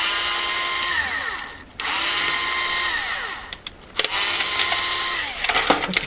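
A battery power drill removes screws from an all-in-one PC, whirring in long bursts, its pitch rising and falling as it spins, with short pauses and clicks between runs; close and loud.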